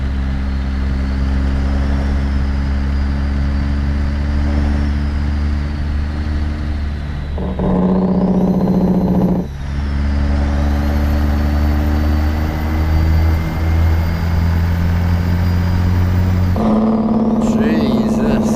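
Peterbilt 389 truck engine droning low and steady, rising in revs twice during downshifts, with someone talking over it throughout the cab.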